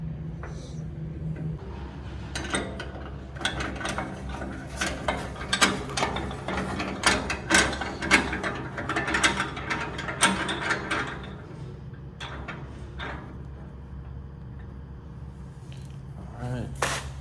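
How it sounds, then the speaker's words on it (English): A ratchet drives screws into a heavy-duty 24-inch charcoal grill during assembly, its rapid clicking in bursts over a low background hum, close and clear, with someone talking briefly before and after. "we're gonna put 2 screws in these 2 holes"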